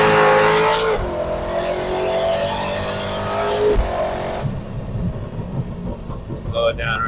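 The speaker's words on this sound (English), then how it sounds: "I'm going to brake boost it a little bit just to light it up." A 1300hp turbo Corvette with a Th400 transmission is brake boosted, its engine revving loud and close in two rising surges before settling into a rough idle.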